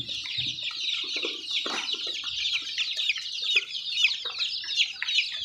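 A flock of Kaveri chickens in a village poultry setting clucks and chatters continuously while pecking at food, a busy, close chorus of overlapping high clucks with small pecking taps.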